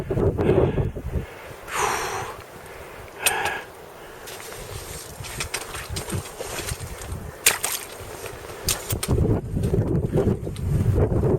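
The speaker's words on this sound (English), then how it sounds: "very windy, but pretty dramatic" Strong wind on a mountain at Frenchmans Cap, gusts buffeting the microphone in uneven roaring bursts that rise and fall throughout.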